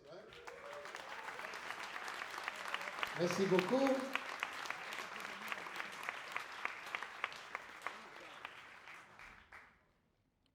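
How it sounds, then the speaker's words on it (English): Audience applause for the school at a Chad Smith drum masterclass in a hall, steady crowd clapping for about ten seconds with a brief spoken thanks and cheers partway through, then fading abruptly. "Should we give the school a round of applause?"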